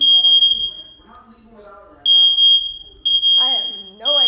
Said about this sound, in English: My fire alarm started going off and like beeping like crazy